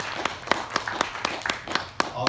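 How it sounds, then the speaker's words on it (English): Audience giving scattered applause for a flight skipper at a presentation, sparse distinct claps in an uneven rhythm, modest in volume, with speech mixed in. "Give him a round of applause"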